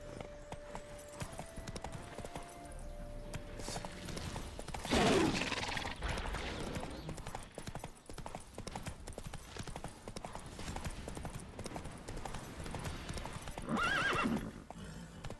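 Geralt's horse Roach gallops in Witcher 3, a fast steady clip-clop of hooves with a whinny partway through and game music and effects underneath, moderately loud.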